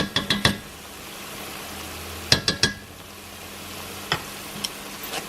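A spoon stirs ingredients with chicken paste in a pot of tinolang isda fish soup, giving soft clinks and scrapes in short bursts over a faint, steady sizzle, with no one talking.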